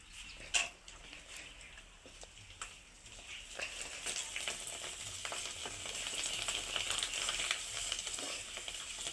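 Bhungla tube pasta fries in hot oil with a steady, bright sizzle that swells and stays dense, dotted with small crackles and pops, close by and without talk.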